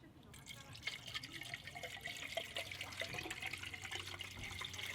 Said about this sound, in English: I'm just going to start pouring in the gallon of distilled water